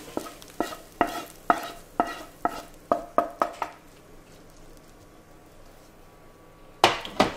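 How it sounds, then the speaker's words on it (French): Potato slices being mixed with bacon lardons and onions for a Normandy-style cocotte, a series of regular scraping stirs close by, then a pause and two more stirs at the end, with no talking. "On essaye de mélanger pour qu'il y en ait bien partout."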